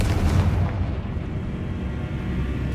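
The Confringo fire spell goes off in the Hogwarts Legacy game as a deep, loud blast that booms at the start and then fades into a rumbling tail.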